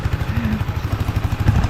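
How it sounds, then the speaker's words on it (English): A tractor engine runs close by in a steady, throbbing low chug with regular pulses, loud and continuous throughout with no talk over it. "That's the other tractor"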